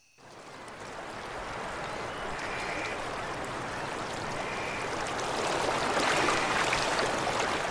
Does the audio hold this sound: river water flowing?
yes